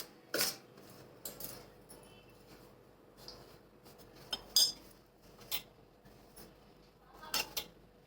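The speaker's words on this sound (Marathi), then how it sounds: "गरम असल्यामुळे ते उलटणीनेच एकत्र करून घेते सगळं" A spatula mixes flour with ghee in a dish, producing sparse, separate scraping clinks and taps with quiet gaps between them, close and fairly soft.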